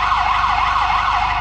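An electronic siren yelps in a fast, regular up-and-down warble, loud and close, with a low engine throb underneath, from the emergency siren on a 2021 Ford F-150 volunteer firefighter truck.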